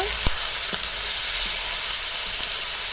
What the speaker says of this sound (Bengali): দিয়ে দেবো লবণ, হলুদ গুঁড়ো। খুব ভালো করে কষিয়ে নেব।